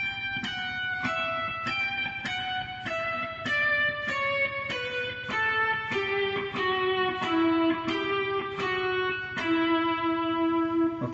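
A clean electric guitar picks a stepwise melodic line from Pachelbel's Canon, one note after another at a steady pace, each note ringing briefly into the next.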